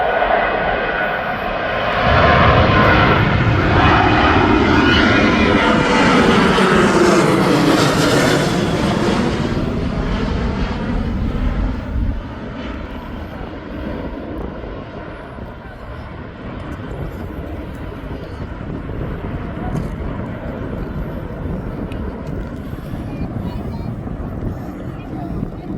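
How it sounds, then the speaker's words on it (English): A passenger jet takes off at Birmingham Airport, its engines building to a loud roar that sweeps past and fades into a distant rumble, with someone talking over it throughout. "This plane now is off down to"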